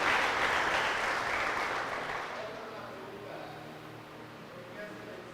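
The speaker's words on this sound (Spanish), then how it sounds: "¿Quieren darle un aplauso al Señor?" A church congregation at a Bible class claps in a broad wash of applause that starts fairly loud and steadily fades away over several seconds, with a faint voice underneath.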